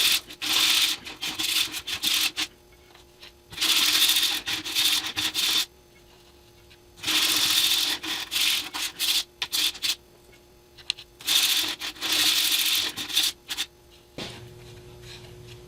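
Sanding thin wooden laminate strips for guitar rosette rings, with loud, close rasping strokes in repeated bursts of a second or two, separated by short pauses.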